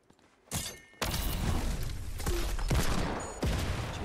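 A gun firing in the Fortnite video game, heard as a loud, close burst of rapid shots that blends into a continuous crackling roar of gunfire, with sharper individual cracks standing out, and no talk over it.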